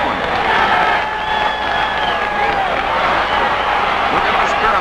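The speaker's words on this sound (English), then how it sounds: "the crowd was really electrified with this one" A stadium crowd roars after a touchdown at the 1950 Eagles versus College All-Stars football game, a dense, loud, continuous wash of cheering that holds steady throughout.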